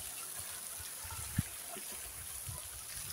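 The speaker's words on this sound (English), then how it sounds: "Excuse the noise of that beautiful waterfall" A garden waterfall water feature runs steadily in a walled garden, a soft continuous trickle and splash of falling water at moderate distance, with one brief knock partway through.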